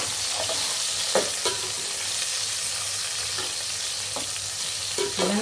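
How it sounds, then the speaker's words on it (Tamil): Green chillies and a medium onion sauté in hot oil, giving a steady close sizzle with occasional scraping stirs of a spoon against the pan, no voices. "வெங்காயம் நல்லா வதங்கணும்."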